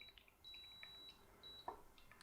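An electric kettle for pour-over coffee emits short, high electronic beeps, a few separate tones and one longer held beep. They are faint and close against a quiet room, with no talk.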